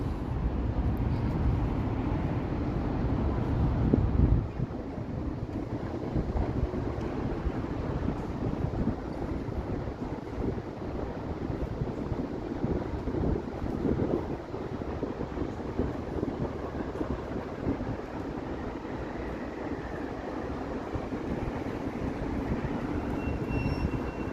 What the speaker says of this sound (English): What a breezy night.